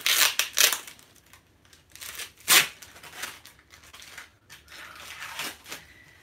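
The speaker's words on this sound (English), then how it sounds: "So let me take the tape off." Packing tape peeled off a cardboard box in several sharp ripping bursts with crinkling between them, close and fairly loud, with no voices.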